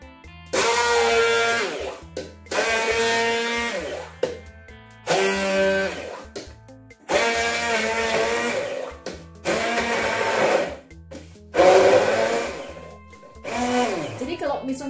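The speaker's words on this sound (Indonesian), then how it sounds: "Jadi ini kita blender dulu ya." A blender grinding spices for sambal goreng hati whirs in repeated loud bursts, about seven pulses with short pauses between, grinding steadily up close.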